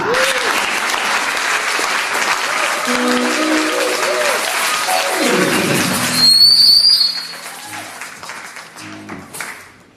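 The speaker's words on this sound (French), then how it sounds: "Est-ce que nous pouvons applaudir pour lui?" An audience applauds for a 69-year-old man at a church gathering, a steady wash of clapping filling the first six seconds before fading out. Whistles and a brief tonal sound come through near the end.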